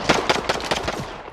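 Rapid bursts of gunfire in the battle royale Call of Duty Warzone, a quick series of sharp, loud shots fired in rhythmic succession and tapering off toward the end, with no talk over it.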